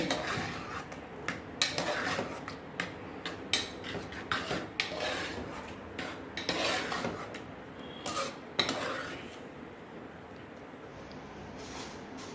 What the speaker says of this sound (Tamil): இப்போ வந்து சாம்பாருக்கு காய் வதக்கிடுவோம்